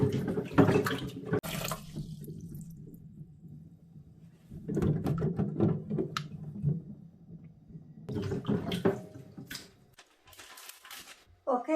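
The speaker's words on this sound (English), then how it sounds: "I need to have this individual seed to get germinated. So I just wash them all at the same time." Avocado seeds washed under running tap water in a sink, with bursts of splashing and rushing flow separated by quieter gaps, close by and fairly loud.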